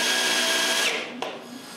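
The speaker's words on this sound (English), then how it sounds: "I need to drill 2 holes for the T-nuts that are inside the base" A power drill boring holes for T-nuts in a wooden base, a loud steady high whine that drops as the bit breaks through, then a brief click and a lower spin-down.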